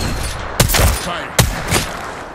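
Incoming gunfire in a video game arrives as two sharp, loud bursts about a second apart, each followed by a brief rumbling tail over a continuous background din.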